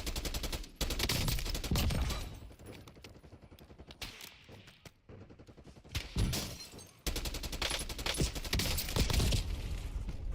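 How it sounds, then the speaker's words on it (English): AK rifle fire in Call of Duty Warzone, dense rapid bursts of automatic gunfire with short gaps, loud and close, rolling almost continuously through the stretch. "I think the AK shoots too slow, bro."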